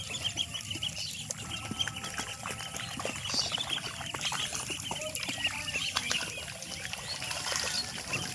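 Ducklings swim in water with soft, faint splashing and dribbling sounds, scattered small bird calls and chirps in the background, and a continuous outdoor hiss.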